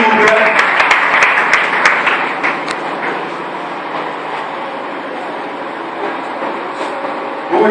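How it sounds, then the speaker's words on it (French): A crowd applauds at a French-speaking church gathering as people are called forward, loud sharp claps at first, then fading into a steady murmur under speech. "Alors, acclamez nos frères."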